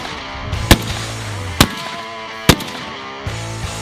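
Three sharp, loud gunshots from firearms such as an MP5, M249 and Barrett .50 cal sniper rifle ring out about a second apart, each with a brief echoing tail over a low hum.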